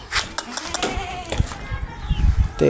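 A goat bleats in short, wavering calls amid rustling and handling noises close by.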